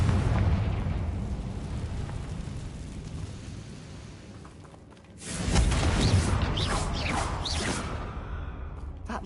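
In the Hogwarts Legacy video game, a Confringo fire spell bursts in a sudden booming explosion with a whooshing roar, after a dense rumbling stretch of battle ambience, and the blast stays loud and full as it trails off.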